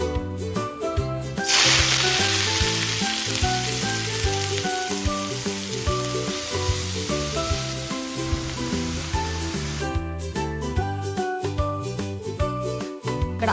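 Onions fry in hot oil in a home kitchen while samosas are being made, giving a bright, steady sizzle that starts abruptly, holds for several seconds and then cuts off, all under prominent background music.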